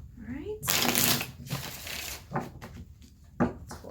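Cards riffle and snap in quick bursts, close and crisp, with brief soft handling noises between them and no voices.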